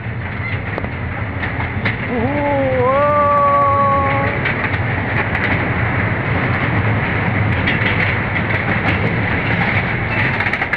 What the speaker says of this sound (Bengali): আস্তে আস্তে করে রোলার কোস্টারে স্পিড বাড়ছে